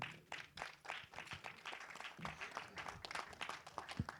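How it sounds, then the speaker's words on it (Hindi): Audience applause at a Hindi film trailer launch event, scattered claps from a crowd, fairly faint and uneven, with a few louder individual claps standing out. "शरद केलकर के लिए एक बार जोरदार ताली होनी चाहिए"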